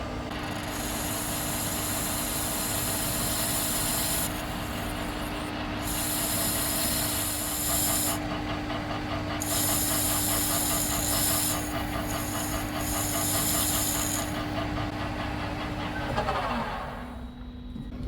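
A milling machine hums steadily while a 5mm radius cutter grinds and chatters continuously against a metal corner, its pitch shifting slightly before the cut winds down near the end.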